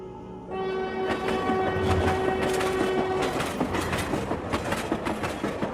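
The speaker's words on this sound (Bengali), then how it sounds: "ওই যে ট্রেন চলে এসেছে" A train pulls into a railway station: a long, loud horn blast opens, then the rhythmic clatter of wagons rolling past close by, growing busier as the horn fades.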